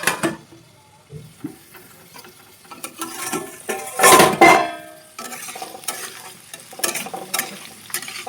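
Potatoes fry in a pan at home, with soft sizzling broken up by intermittent scraping and stirring of a utensil against the pan, including a louder burst of clatter midway, all close and fairly quiet.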